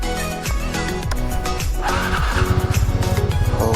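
Two-wheeler engine starting: uneven mechanical churning builds, then the motor catches and settles into a fast, rhythmic putter that grows louder toward the end.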